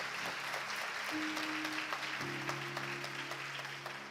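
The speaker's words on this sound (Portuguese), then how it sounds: "Aplauda ao Senhor, porque Ele é digno." A church congregation claps in a dense, steady wash of applause, moderately loud and sustained, with faint tonal music tones sounding underneath.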